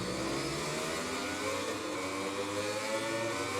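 Racing motorcycle engine revving on the starting grid in the MotoGP 20 game at a circuit, a steady loud whirring drone with layered engine harmonics, continuous and close, no speech.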